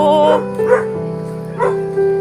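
A dog yips and whimpers close by in a few short, high-pitched bursts, with a voice mixed in.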